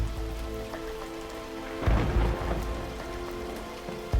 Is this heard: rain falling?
yes